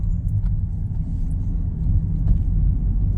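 A Mercedes-Benz W204 with a 7-speed gearbox on the move, heard as a steady, loud low rumble of engine and road from inside, with no distinct shift clunks.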